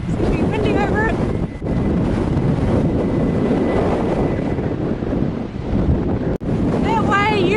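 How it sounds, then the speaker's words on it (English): Loud wind roars and buffets the microphone continuously at a one-lane bridge in New Zealand's North Island ranges, with a brief sharp dropout and faint voice-like sounds near the start and end. "it's going to be windy over it."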